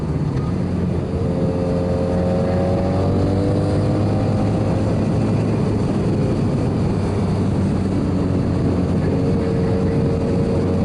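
A 1988 Honda VF750c Super Magna motorcycle rides on after a downshift, its engine giving a steady low drone with shifting whine and road and wind rumble running loud throughout.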